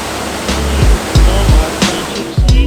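The Trevi Fountain in Rome pours and splashes in a steady rushing wash, with several short low thuds and bumps from nearby handling noise over about three seconds.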